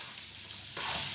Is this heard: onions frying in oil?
yes